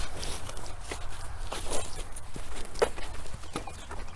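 Cows and a bull walk nearby on a farm, their hooves making irregular soft thuds and clops over constant wind and outdoor noise, with faint shuffling throughout.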